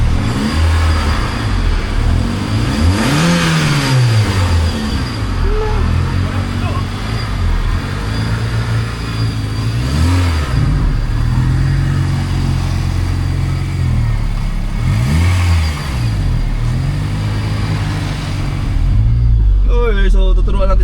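A manual-transmission car being driven out by hand, its engine revving in repeated rising and falling sweeps, loud and close, with people talking over it throughout.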